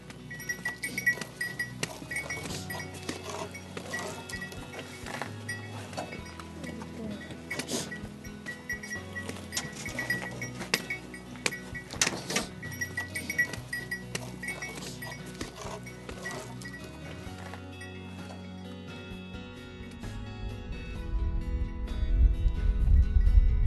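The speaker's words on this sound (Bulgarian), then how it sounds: "Хубави крави, гледани животинки са." Livestock on a Central Balkan mountain pasture in Bulgaria, with cowbells clinking among grazing cows. The bells ring irregularly at moderate loudness over a steady outdoor background, and a low rumble builds near the end.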